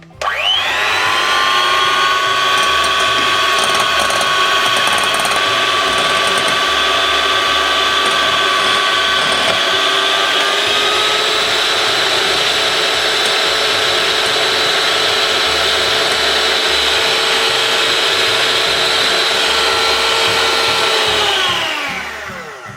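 Eggs whisked with an electric hand beater for a Chinese omelette, a steady loud motor whine with a high harmonic pitch that drops slightly midway and runs about twenty seconds before stopping, no talk.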